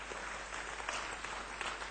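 An audience claps at a keynote talk, a steady wash of applause lasting the whole moment with no clear single claps standing out.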